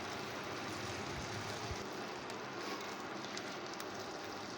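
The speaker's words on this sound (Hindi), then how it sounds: "तो अब इसमें चलें चिकन डालते हैं फ्राई करने के लिए।" Chicken pieces fry in hot oil in a pan, giving a dense, steady sizzle that fills the clip at close range with no break.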